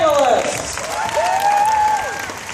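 Audience applause for the finalists at a live Fear Factor event, steady clapping and crowd noise running for the whole stretch, with a host's voice sliding over the top.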